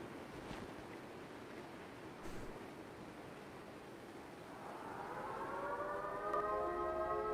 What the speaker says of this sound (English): It's the air raid siren.